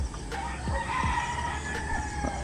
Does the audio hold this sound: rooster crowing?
yes